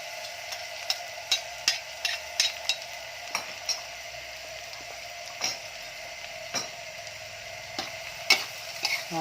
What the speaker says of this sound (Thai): เจียวกระเทียมก่อนเลยครั้งแรก